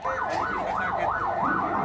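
A loud ambulance siren wails in a steady rising and falling pattern, close and continuous, as ambulances carry victims from a collapsed Islamic boarding school prayer hall in Sidoarjo, Indonesia.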